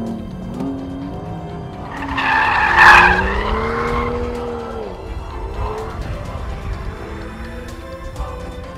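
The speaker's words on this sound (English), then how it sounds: "And that, children, is how you drift, okay?" A BMW M235i drifts with its tires skidding and squealing in a long rising wail over engine noise, peaking loudly midway before easing off.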